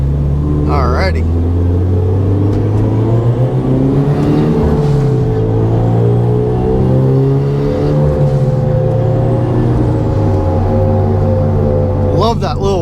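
Turbocharged Subaru BRZ with a screamer pipe, its engine droning and rising and falling in pitch through revs, with a light turbo whistle over the rumble and brief voice-like bursts at the start and end.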